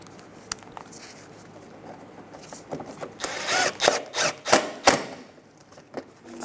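A powered screwdriver runs Phillips head screws into the fender liner of a 2007-2012 Nissan Altima, with short ratcheting whirs and clicks in several close bursts after a quieter start.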